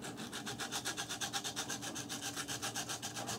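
A nail file rubbing back and forth on small light parts for a Hornby/Lima Class 66 model locomotive, quick even rasping strokes, close and faint, with no talking.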